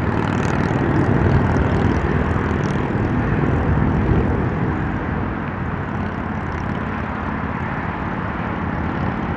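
Heavy jet aircraft at Chicago O'Hare Airport during an afternoon departure, a loud steady engine roar that stays strong and continuous throughout, with no voices.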